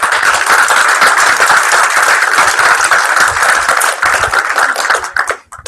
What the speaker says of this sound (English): Let's give a rousing round of applause.